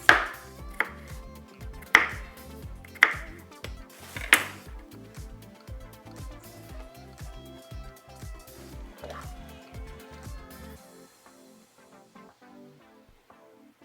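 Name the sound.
chopping potato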